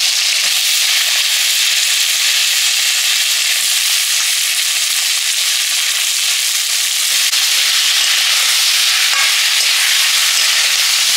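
Vegetables for a spicy bhetki fish curry with taro stems hitting a hot pan, a loud, steady hiss of frying that holds for several seconds with light crackles, close by and with no one talking.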